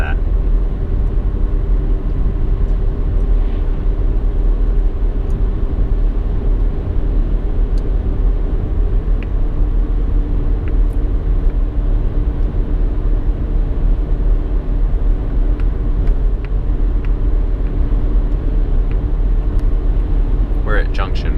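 A car cruising on a highway at about 65 mph, a steady low road rumble and engine drone that holds throughout with no breaks.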